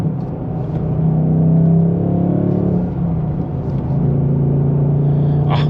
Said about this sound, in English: Such a beautiful sound of this Coyote engine. You can't beat the V8 sound.